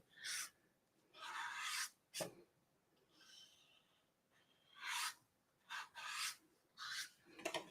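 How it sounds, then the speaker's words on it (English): A brush sweeps stray embossing powder off a card in several short, soft bursts of brushing, each lasting a fraction of a second to about a second, with quiet gaps between them. "Just use this brush just to get rid of some of those stray"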